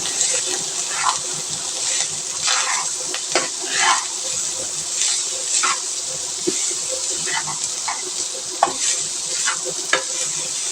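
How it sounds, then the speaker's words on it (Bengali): Rice being stir-fried in a pan for jeera rice, with a dense sizzle punctuated by repeated scraping spatula strokes at an irregular rhythm, close and steady. "রাইসটা দিয়ে রাইসটাকে সুন্দরভাবে আমরা ভেজে নেব।"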